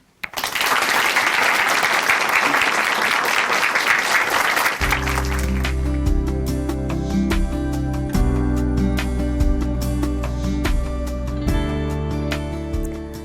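Applause from a church congregation welcoming someone speaker, a dense clapping wash for about five seconds that then gives way to loud music continuing to the end.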